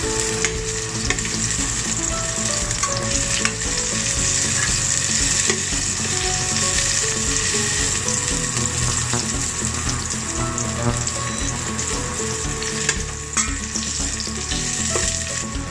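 Minced garlic fries in a hot pan, giving a dense, continuous close sizzle that holds steady at one level from start to finish, with faint clinks underneath.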